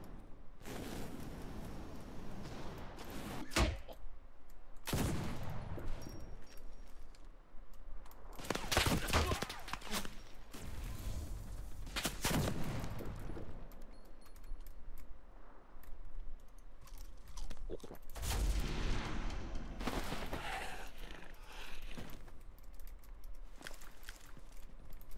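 Gunshots in the CRSED: F.O.A.D shooter game, several sharp, loud reports spaced irregularly among quieter clicks and movement sounds, with a faint game ambience underneath.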